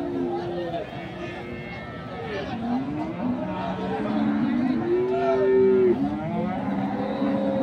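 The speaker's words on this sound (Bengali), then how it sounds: "আপনারা দেখছেন এই হাটের যে দুধের গাভী গরুগুলো রয়েছে সেই গরুগুলো।" Dairy cows at the Khochabari cattle market in Thakurgaon, Bangladesh, lowing repeatedly nearby, with long drawn moos rising over a constant murmur of crowd chatter and voices.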